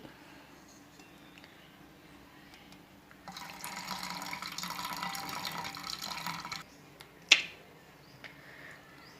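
Excess water poured off cooked dal from a pressure cooker, a steady splashing pour lasting about three seconds in a quiet kitchen, followed by a sharp metallic clink.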